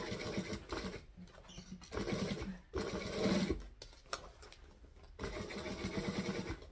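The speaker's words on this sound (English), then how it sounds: "So I'm just going to sew straight through that whole nightmare." A sewing machine stitching straight through bulky fabric piping runs in several bursts of whirring with short pauses between them, at moderate loudness up close.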